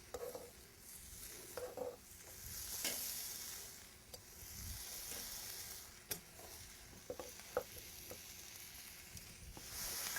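Cooked fajita steak tossed back into a hot pan for Tex-Mex fajitas, a steady close sizzle and frying hiss with occasional stirring clatter and scrapes, fairly quiet, no speech.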